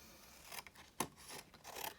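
A few quick snips of scissors cutting a paper strip, one sharp crisp cut standing out among softer rasping strokes, close and fairly quiet.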